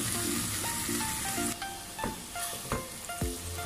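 Chicken pasta sauce with whole peppercorns and salt simmers and sizzles in a pot for tagliatelle, with a steady close crackle broken by a few scraping knocks of a stirring utensil against the pot.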